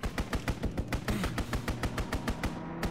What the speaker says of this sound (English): Enemy strafing run incoming.